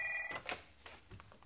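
A telephone sounds with a brief electronic tone at the start, followed by faint clicks and scattered handling noises.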